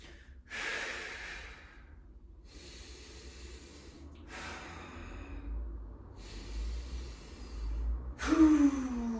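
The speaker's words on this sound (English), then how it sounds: "Take a deep breath." Slow deep breaths during a yoga balance pose, several audible inhales and exhales spaced a couple of seconds apart, close and soft, with no speech.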